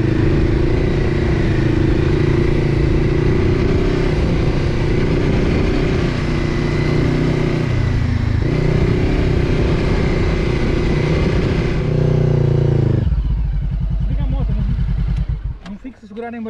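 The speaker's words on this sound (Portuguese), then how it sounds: "There goes Francisco on the WR." A WR dirt bike engine roars loud and close throughout on an off-road climb, with the throttle rising and falling before the engine tone drops away and wind or handling noise follows near the end.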